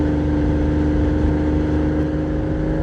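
A Porsche 987 Boxster cruises in second gear at 3,000 RPM and about 30 mph, its engine a steady, even drone heard from inside the car, with no talking.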